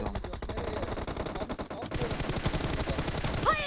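Rapid bursts of automatic gunfire from a PUBG Mobile firefight crackle continuously, loud and close, with dense repeated shots throughout.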